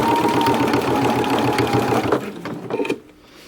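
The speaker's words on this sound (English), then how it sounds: "just sewing a very long seam that doesn't seem to have any pattern to be matched up" A sewing machine runs steadily while stitching a long seam, a loud, close, rapid mechanical whir that slows and stops near the end.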